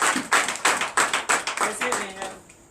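A church congregation at a night deliverance service claps in a quick, steady rhythm for about two and a half seconds, loud and close, with voices mixed in.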